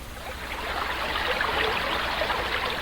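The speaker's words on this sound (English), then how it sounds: "There it is. A waterfall. They call it the Creekfield Woman Gorge Falls." A waterfall in the woods, Creekfield Woman Gorge Falls in Taylor's Valley, Virginia, gives a steady, close rush of falling water that stays even and unbroken throughout.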